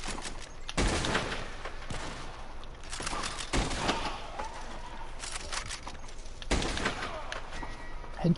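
Sparse gunshots in Red Dead Redemption 2 Online, a few distinct cracks spaced seconds apart over a low, quiet outdoor ambience.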